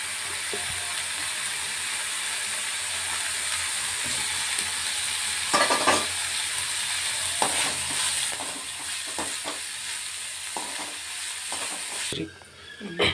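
Okra and onions fry in a pan, giving a steady sizzle and hiss throughout with occasional stirring scrapes, close and moderately loud, ending in a brief quieter moment.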